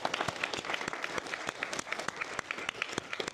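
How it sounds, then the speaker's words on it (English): Audience applause in a classroom coaching session with students, steady dense clapping throughout with sharp individual claps standing out near the front. "Huge round of applause,"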